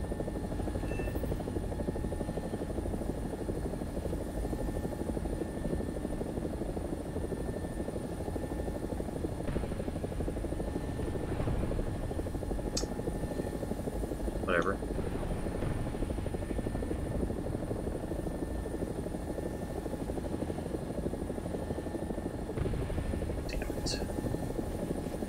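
AB 205 helicopter in a video game, its rotor and engine producing a constant loud droning buzz for the whole stretch, with a few faint clicks and blips on top.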